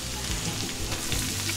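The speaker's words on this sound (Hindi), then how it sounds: "अब इसमें डालेंगे अपने प्याज" Onions dropped into hot oil in a pan for a dal palak dish fry with a loud, steady, dense sizzle that fills the short stretch, with faint scraping near the start.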